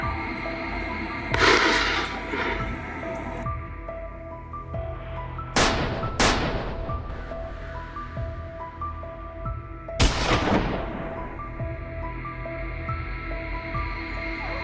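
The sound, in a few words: gunfire echoing during a wild boar hunt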